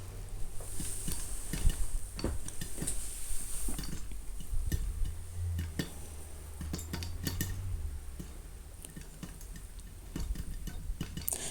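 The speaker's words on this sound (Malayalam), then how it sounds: "ഇങ്ങനെ പടപടപടേന്ന് നമ്മുടെ പാത്രത്തിൽ കിടന്ന് പൊട്ടാൻ തുടങ്ങും." Popcorn kernels popping in a glass-lidded pot, honey popcorn in the making: scattered sharp ticks and clicks at irregular intervals over a low steady hiss and rumble, with no voices.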